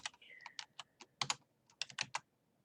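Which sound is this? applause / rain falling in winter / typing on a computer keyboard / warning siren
typing on a computer keyboard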